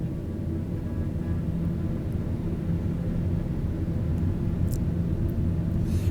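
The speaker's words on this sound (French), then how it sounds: "Allons-y, allez, plein gaz." Pilatus turboprop airplane in Microsoft Flight Simulator 2020 throttled to full power for takeoff, a steady, loud low engine rumble and drone that holds evenly throughout, with no voices over it.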